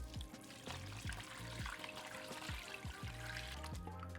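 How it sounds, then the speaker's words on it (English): Brine trickles and splashes as it pours into a container over beef ribs being cured for pastrami, a steady liquid stream with faint knocks, quiet and close. "now we're gonna pour this brine in here."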